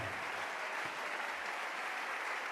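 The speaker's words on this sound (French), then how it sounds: "Nous acclamons le Seigneur très très fort." Church congregation applauding and cheering loudly after a sermon, a dense, steady wash of clapping and voices with no gaps, continuous throughout.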